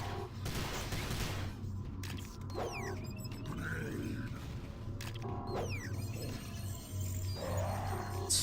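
Gunfire in the PC shooter Prey (2006) as a box is shot, with bursts of shots mixed with mechanical creaks, clanks and other game noise at steady volume.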